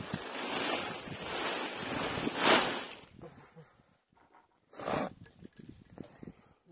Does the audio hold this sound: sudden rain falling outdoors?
yes